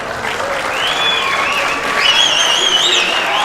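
Dense crowd cheers and steady applause fill an arena at an IBJJF Absolute Grand Prix jiu-jitsu match, loud and continuous with shrill whistles rising above the roar.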